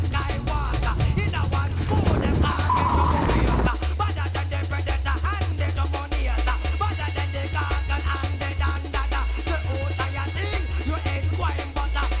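A 1990s Vauxhall Cavalier driven hard like a rally car, its engine droning loud and steady throughout, with a surge and shift in tone near the start.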